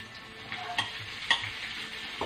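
Cooked rice and onion stir-fried in a pan, with a soft continuous sizzle and scraping, and a few light clinks of a utensil against the pan at close range.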